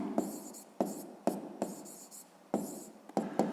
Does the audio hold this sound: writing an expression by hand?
yes